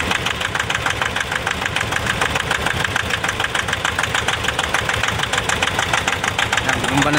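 Diesel engine of a 2019 Nissan Navara cranking and running roughly with a steady, rapid knocking rhythm, loud and close throughout, with faint talk underneath.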